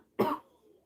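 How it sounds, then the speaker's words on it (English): One short, gruff throat clear, close and fairly quiet, followed by near silence. "I'm trying to clear my throat."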